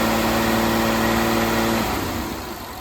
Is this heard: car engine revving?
yes